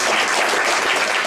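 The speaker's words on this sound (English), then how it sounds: "Give the Thornapple Valley Strings another round of applause." An audience claps loudly for the Thornapple Valley Strings, a brief burst of close, dense applause with no voices.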